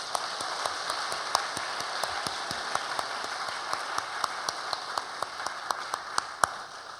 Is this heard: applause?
yes